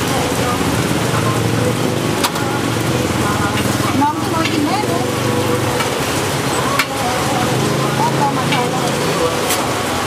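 A steady sizzle of pancake batter frying fills the clip at an outdoor street market in the rain in Nakhon Si Thammarat, Thailand, mixed with rain-like hiss, occasional clinks, and voices talking in the background.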